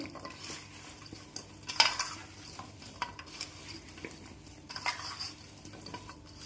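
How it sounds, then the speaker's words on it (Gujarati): Salt mixed by hand into cut kothimba pieces in a bowl, soft close rustling and stirring with occasional light clinks of a utensil. "હવે નમક નાખી અને સરસ સારી રીતે મિક્સ કરી દેવાનું છે"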